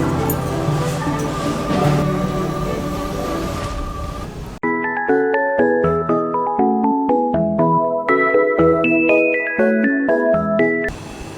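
A telephone ringtone plays as a nurse calls a doctor in a hospital emergency ward, a bright chiming melody that follows a burst of louder background sound and repeats its tinkling notes for several seconds.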